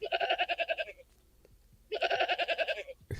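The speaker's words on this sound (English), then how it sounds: "He can get a goat sound." Two loud, close goat bleats, each a wavering, trembling cry lasting about a second, separated by a short quiet gap, used as a sound effect.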